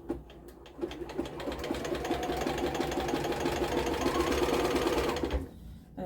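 A home sewing machine stitches a cushion or pillow seam at a 2.5 stitch length, running in one steady, fast mechanical whir for several seconds before stopping, close and clear.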